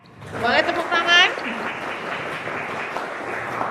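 Applause from an audience at a student forum run with the North Sumatra regional council (DPRD) and FISIP Universitas Medan Area, following a speaking voice, then a steady, moderately loud wash of clapping that carries on to the end.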